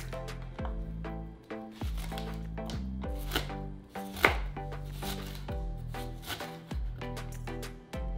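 Onion being chopped with a knife on a cutting board while making salsa verde for shrimp tacos, a steady series of crisp close knife strikes in an even rhythm.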